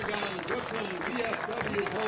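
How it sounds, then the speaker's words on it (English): Stadium applause at a high school football game, Oregon versus Reedsburg, for veterans carrying the colors, sounds as a steady patter beneath an announcer's voice talking over it. "Nice applause for the"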